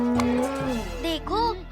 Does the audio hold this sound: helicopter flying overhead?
no